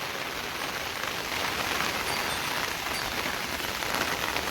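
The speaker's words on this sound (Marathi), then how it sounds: "आणि इकडे बघा पाऊस आहे." Rain falls steadily in a Konkan village countryside, a soft, even hiss of drops on surfaces that continues unbroken and fairly faint throughout, with no voices.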